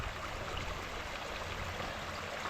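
Irrigation water flows steadily over a field of wheat stubble, a continuous broad rushing and trickling wash at moderate level with no break or talk.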